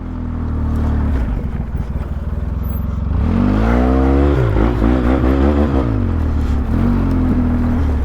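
A Polaris Sportsman 700 ATV engine runs loud and close during a ride, idling roughly at first, then revving up and down in rising and falling surges with some clattering.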